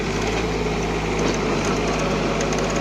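Tractor engine running steadily with a Mateng NEFL 95 mulcher attached while its wheels slip, a loud continuous drone with a low hum and dense broadband roar throughout.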